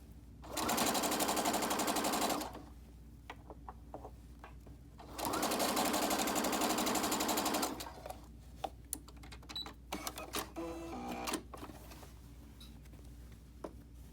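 A sewing machine stitching a fabric mask runs in two steady, loud bursts of a couple of seconds each, separated by a pause, followed by scattered clicks and fabric handling.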